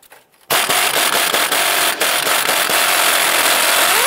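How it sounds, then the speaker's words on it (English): An impact tool with a 15mm socket loosens the sway bar end link nut on a 2011-2019 Ford Fiesta, a loud, continuous rattling hammer that starts abruptly after a brief pause and runs steadily close by. "Using a 15mm socket, we're going to go ahead and remove our sway bar end link nut."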